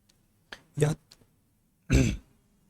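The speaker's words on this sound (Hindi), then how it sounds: "सॉरी थोड़ा खांसी आ गई थी" A few short, rough coughs and throat clears close to the listener, separated by brief pauses, with no talking.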